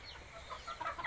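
Native hens on a chicken farm in Clarin, Bohol, give a few soft, close clucks in a short, quiet burst, with no talking.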